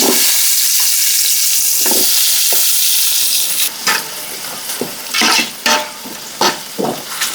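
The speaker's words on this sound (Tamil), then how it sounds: "ஆயில் நல்லா ஹீட் ஆகிடுச்சு. இப்போ நாங்கள் வெங்காயத்தை சேர்த்துருவோம்." Onions added to well-heated oil in a pan for a beef nalli gravy, making a loud continuous sizzle, with intermittent spoon scrapes and stirring clatter as it goes on.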